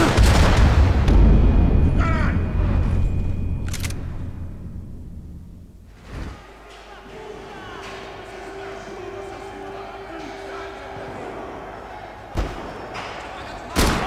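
Gunfire in the Max Payne 3 video game: heavy slamming shots and booms over the opening seconds, then a quieter stretch broken by a few sharp impacts near the end, with shouted voices mixed in.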